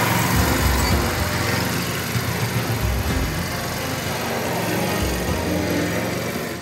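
A lawn mower engine runs steadily and fairly close, a continuous droning rumble with no break or change in pace and no talking over it.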